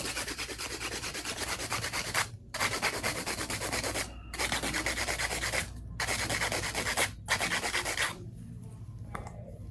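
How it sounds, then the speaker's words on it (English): A 100 grit hand nail file rubs across a fingernail in steady, circular strokes, close and continuous, pausing briefly a few times between runs of scratchy sanding. "And this is the 100 file. Circular motion. Move throughout the nail."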